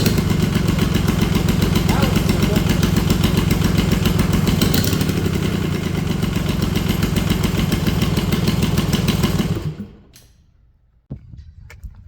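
A Kubota D640 diesel engine fitted with a D722 head runs loud and steady close by, a dense rumbling drone for about nine seconds before it dies down, followed by quiet and a couple of sharp knocks.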